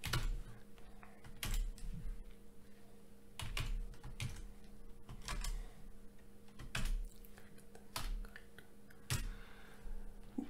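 Computer keys clatter in uneven bursts while code for a Connect Four game is typed, with sharp clustered keystrokes separated by brief pauses over a steady low hum, close and fairly quiet.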